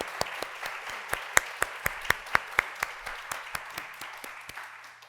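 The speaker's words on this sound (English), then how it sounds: "Could we please, even though we can't see them, applaud for them?" A small audience at a book launch claps together, with distinct individual claps in a loose rhythm that thin out and fade over a few seconds.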